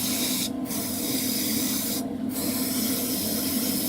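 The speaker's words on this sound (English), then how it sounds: "Mastering that for the purpose of very thin misty coats goes a real long way at preventing excessive buildup of paint." An airbrush sprays thin, misty coats of paint onto the cockpit of a 1/48 scale AMK F-14D Super Tomcat model, giving a steady, close hiss with two brief pauses where the trigger is released.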